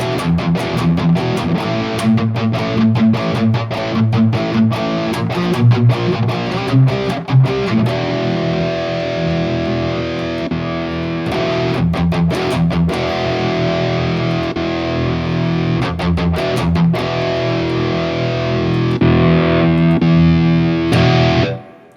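An electric guitar played through high-gain distorted amps at matched volume and gain, strumming dense chords and chugging riffs continuously and loudly for over twenty seconds, with no voices.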